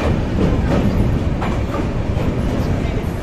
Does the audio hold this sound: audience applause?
no